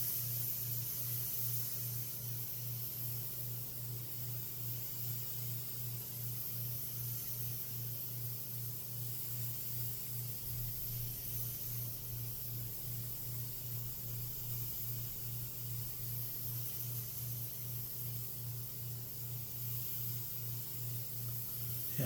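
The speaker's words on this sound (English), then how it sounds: "the Takumi, even though it has just a little bit bigger needle and nozzle setup, sprays it better at a 1-to-1 ratio than the Evolution did" A Takumi airbrush spraying paint thinned 1:1 gives a faint, steady airy hiss throughout, with a low pulsing hum beneath it and no talking.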